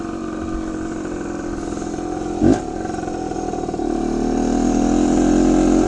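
A 1974 Honda MT125 Elsinore two-stroke dirt bike idles steadily nearby, with a brief clatter midway and the engine note rising slightly toward the end.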